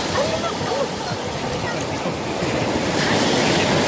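Sea waves on a Turkish beach wash and roar close by with wind buffeting the microphone, swelling louder toward the end.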